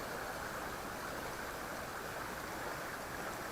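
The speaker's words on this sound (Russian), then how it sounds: "а там поток такой фигачит" A stream runs hard beneath the first river ice, heard as a steady, even broadband rush with no pauses or voices.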